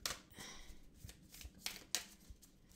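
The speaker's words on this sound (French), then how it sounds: "je vais vous prendre une carte" A tarot card is drawn from a Mother Mary oracle deck, giving soft papery rustles and a few crisp card snaps, faint and close, with no speech.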